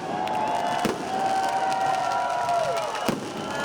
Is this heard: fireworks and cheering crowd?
yes